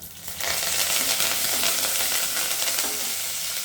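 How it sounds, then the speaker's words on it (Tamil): Dried vathal fries in hot oil for a one-pot vathakuzhambu, bursting into a loud, close, continuous sizzle and crackle after a brief quieter start. "போட்டு எண்ணெயில் நல்லா பொரியணும்."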